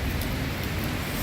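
Heavy downpour drums steadily on large umbrellas on a street in Akihabara, Tokyo, a dense, unbroken hiss filling the whole moment with no voices.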